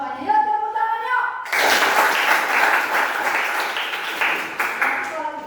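Students in a classroom burst into hand clapping for a group's answer, a lively round of applause that starts abruptly after a teacher's voice and continues steadily, with speech returning near the end.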